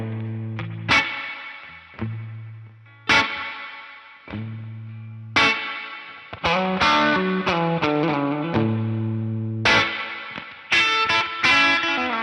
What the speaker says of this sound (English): It's got a spring reverb type of thing.